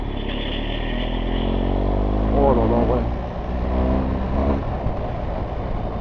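A BMW motorcycle engine rumbles low and steady, swelling briefly as it revs to around 2500 rpm, while someone talks over it.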